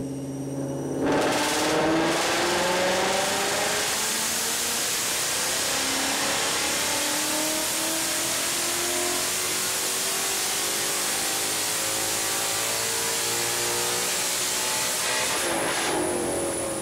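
A Ford Mustang Coyote engine on a dyno revs up and holds a steady, loud drone, rising gradually in pitch over a long pull before dropping off at the end.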